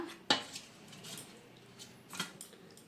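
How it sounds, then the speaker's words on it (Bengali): Metal utensils clink against a plate as rice is served alongside a home-cooked mutton and potato meal, with a sharp clatter near the start and a second softer clink later, close and fairly quiet. "এবার ভাতটা বেড়ে নিই"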